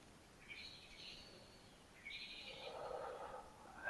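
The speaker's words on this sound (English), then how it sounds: "you can hear birds singing in the background" Birds sing faintly outdoors in quiet surroundings, with two soft high chirping phrases followed by a warbling call over low background hiss.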